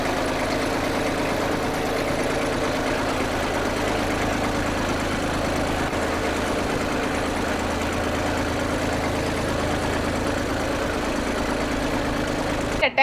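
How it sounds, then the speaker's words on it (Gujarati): A tractor runs slowly while sowing a chili field, giving off a steady, low engine drone that holds evenly throughout without pause. "ટ્રેક્ટર ધીમું ધીમું હાલતું હોય એટલે વાવેતર સારું થાય."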